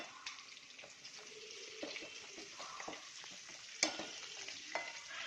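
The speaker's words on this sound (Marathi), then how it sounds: "चांगली परतून घेऊ" Vegetables sautéed in a pan for pav bhaji, with steady sizzling and repeated scraping stirs of a spatula, close and fairly quiet, with a sharper clank near the middle and no voices.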